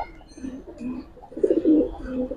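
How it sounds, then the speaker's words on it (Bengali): A pair of giribaz pigeons coo in soft, repeated low throaty phrases close by, growing louder toward the end, with faint bird chirps above. "একেবারে পুতুলের মতো ভাই দুইটা কবুতর"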